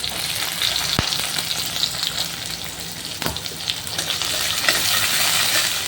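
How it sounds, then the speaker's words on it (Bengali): Onion frying in hot oil with cardamom, cloves, cinnamon and bay leaf in a home kitchen, a steady close loud sizzle throughout with a couple of sharp clicks of utensils against the pan. "এইবারে তেলের মধ্যে দেবো এলাচ লবঙ্গ দারচিনি আর তেজপাতা দিয়ে টুক করে পেঁয়াজটা দিয়ে দেবো"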